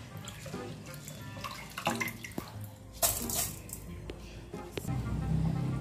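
Pearl millet (kambu) being rinsed by hand in water in a vessel, with close, irregular sloshing, splashing and dripping that swells and settles over several seconds, no voices.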